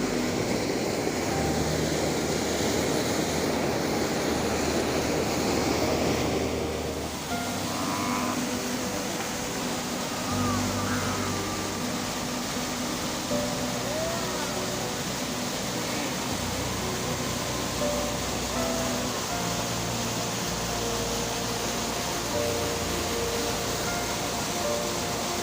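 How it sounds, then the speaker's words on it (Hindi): A waterfall near an old wooden footbridge pours with a steady, dense, unbroken rushing roar that fills the whole stretch at an even loudness. "ये है झरना"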